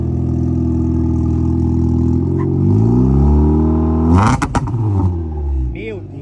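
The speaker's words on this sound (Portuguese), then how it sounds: "Eu quero escutar esse escapamento fazendo barulhinho" A modified Lancer's engine idles, then revs up sharply with a loud roar through its exhaust before dropping back, a brief burst near the end.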